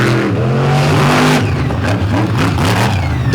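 A Chevy race car at full throttle during an All Stars auto race in Chattanooga, its engine loud and close with a steady roar and rising pitch as it accelerates, no talking.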